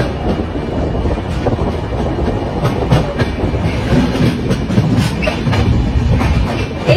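The Shatabdi Express from Howrah to Ranchi rumbles along steadily, heard from on board, with a dense, loud roar of wheels on rails, rhythmic clickety-clack and some wind buffeting.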